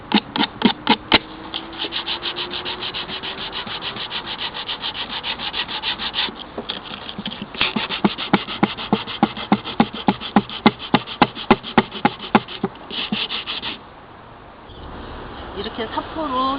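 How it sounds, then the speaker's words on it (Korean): Sandpaper rubbed over a painted napkin-craft piece in a vintage distressing technique, a close, rapid series of rasping scrubbing strokes in a steady rhythm, pausing briefly before a softer final stretch. "이렇게 사포로 전체적으로 다 문질러 줬어요."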